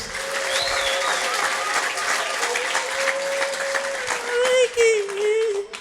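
A church congregation applauding, a dense, sustained clapping crowd filling the space while a voice speaks or chants over it, getting louder near the end.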